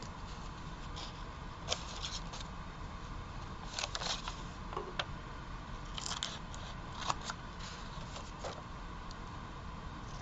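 Scissors cut through a book page and a paper napkin, making quiet, crisp snips at an uneven pace above a faint background hiss.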